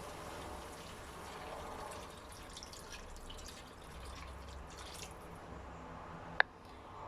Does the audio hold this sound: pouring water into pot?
yes